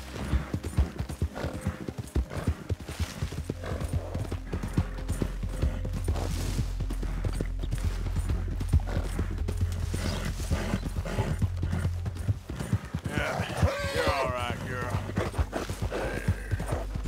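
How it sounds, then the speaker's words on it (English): Hooves of a horse galloping at speed in Red Dead Redemption 2 clip-clop in a steady rhythm under a low rumbling bed, with an occasional whinny and a rider talking to the mare over the hoofbeats. "Qué velocidad coge el caballo ahora, ¿eh?"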